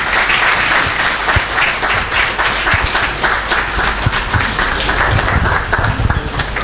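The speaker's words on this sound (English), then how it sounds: "Please give a round of applause for Dr. Vivek Agarwal." Audience applause at a Teachers' Day celebration and oration, a dense, sustained burst of many hands clapping that stays loud and even from start to finish, with no talk over it.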